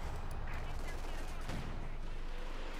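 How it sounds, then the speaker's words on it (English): In a Company of Heroes 2 battle, a German Panzerwerfer rocket barrage rumbles and crackles under a dense wash of battlefield noise, with distant explosions and continuous gunfire layered together. "And there you go, Panzerwerfer barrage."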